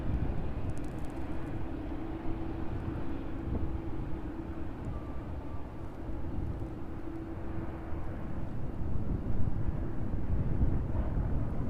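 Steady, distant jet engine rumble from an aircraft taxiing toward runway 27 at East Midlands airport, a constant low drone with a faint tonal hum and no talk.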